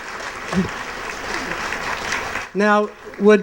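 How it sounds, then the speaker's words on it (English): Audience applause at an alumni gathering for a UN Day tea fills the first couple of seconds as a steady, dense patter, then voices speak briefly over the fading claps. "A round of applause, please."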